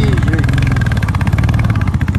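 A motorcycle engine runs close by on a Chenab Valley mountain road, a steady throbbing idle-to-low-rev putter with a rhythmic pulse, loud and continuous with no clear talk over it.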